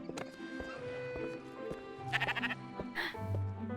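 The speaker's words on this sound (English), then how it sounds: "It's a sheep." A sheep in the video game Spiritfarer gives a couple of short, quavering bleats near the end, heard close over soft in-game background music and effects.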